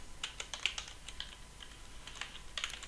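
Quick, light keystrokes clatter on a computer keyboard in short uneven bursts with pauses between, quiet and close, with no talking.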